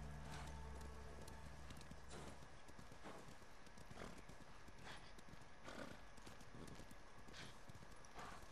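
In Ghost of Tsushima, horse hooves pound in a fast, steady gallop, with rhythmic thuds repeating over a constant background wash of ambient noise.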